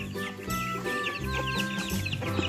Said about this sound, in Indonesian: Di situ ada kandang juga, tapi itu khusus buat ayam kayaknya Rel.